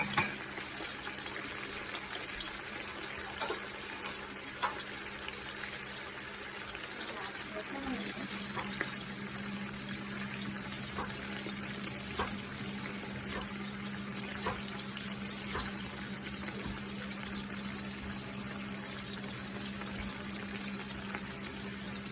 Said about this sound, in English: Wash the mint leaves.